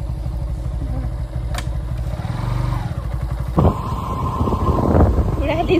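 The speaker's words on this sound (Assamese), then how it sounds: "অংকুৱে পুৰা বাইক ষ্টাৰ্ট দিলে বাইক লৈ যাম" Motorcycle engine chugging in a steady, close putter on a short ride through a village toward a tea garden in Assam, with wind buffeting the microphone and a voice talking over it partway through.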